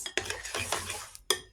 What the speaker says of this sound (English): 1 tablespoon of vegetable oil and give it a good mix.